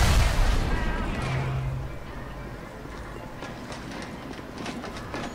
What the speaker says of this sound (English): I just come into the area and some dude's throwing grenades!